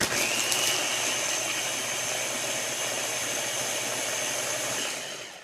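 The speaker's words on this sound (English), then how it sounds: "And then I'm just going to blend this, okay?" A Ninja personal blender runs steadily on a protein shake with ice cubes, a loud continuous whirring motor with a high whine that holds for about five seconds and then cuts off.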